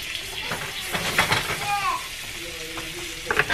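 Mustard-marinated chicken frying in oil in a pan gives a steady sizzling crackle with occasional scraping and clinks, running throughout beneath someone talking.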